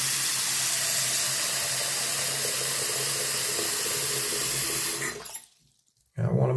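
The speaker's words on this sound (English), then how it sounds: "make sure that's down, push it in, turn the water on." Tap water runs steadily and loudly into a bathroom sink with its stopper pushed down, a continuous rushing flow for about five seconds before cutting off, then a brief new burst of sound.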